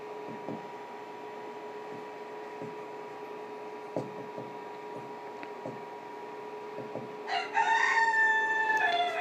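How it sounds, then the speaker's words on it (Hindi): A neighbour's rooster crows near the end, a loud ragged cock-a-doodle-doo after several seconds of quiet hum and faint ticks, with no one speaking. "यहाँ पे बगल में पड़ोस में मुर्गा है बेचारा, पूरा दिन भर चलाता है, सुबह शाम रात दोपहर हमेशा"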